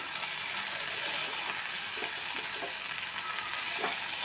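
Fenugreek leaves sizzle in a hot wok while being tossed and stirred, with scattered scraping strokes over a constant crackle.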